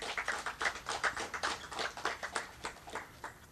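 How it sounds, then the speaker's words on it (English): Quiet, fairly even rhythmic clapping from an audience at a ceremony, heard from some distance, steady and without speech over it. "I want us to give them a special round of applause"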